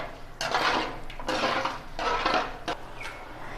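A ladle stirring homemade wedding-style rasam in a metal pot, giving three bursts of scraping, sloshing clatter against the pot's sides with short pauses between, fairly close and steady, with no talking.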